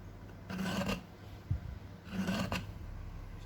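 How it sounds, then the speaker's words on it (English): Steel chisel driven down by hand to cut a dado in wood, bevel set flat against the wall of the cut, giving two rasping, scraping strokes a second or so apart, close and moderately loud with no talk. "So I'll face the bevel flat against the wall here and drive it down."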